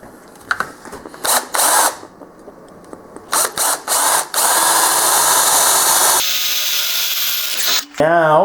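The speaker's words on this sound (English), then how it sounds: "we got to relieve the stress in it by drilling a hole" A power drill bores a 3/16 inch stress-relief hole at the end of a crack in tractor metal, whining in short bursts and then one long sustained run, with talking in between.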